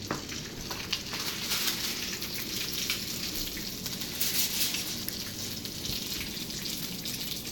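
Atlantic salmon frying in a pan, a steady crackling sizzle with scattered pops, moderately quiet and continuous, with no talking.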